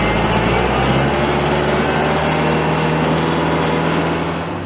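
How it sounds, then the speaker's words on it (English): A Kubota L4060 open-station tractor's diesel engine winds down from working revs toward idle under its auto throttle, a loud, close, steady drone that eases off at the end. "as I take my foot off the pedal, it takes it right back down to an idle or very close to it"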